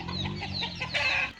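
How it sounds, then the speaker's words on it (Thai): Chickens cluck and a rooster gives a short crow in the evening around a home yard, a brief, close burst of bird calls. "เสียงไก่ร้องดังมากช่วงเย็น"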